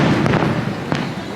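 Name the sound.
fireworks exploding on July 4th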